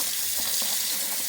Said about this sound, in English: This is hot water.